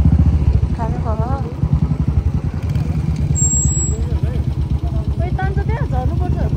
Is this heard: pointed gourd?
no